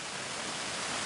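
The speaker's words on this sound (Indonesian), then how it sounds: "Misalnya air terjun." Waterfall sound effect from the Kinemaster editing app, a dense, steady broadband rush of falling water, loud and unbroken, with no voices.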